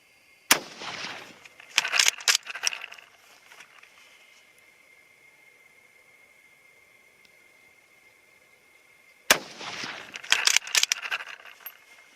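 A rifle fires 6mm ARC rounds with short, fat bullets. Two sharp, loud cracks land about nine seconds apart, each trailing a rattling echo, with near-silence between them.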